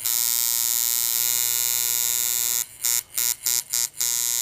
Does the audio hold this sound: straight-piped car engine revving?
no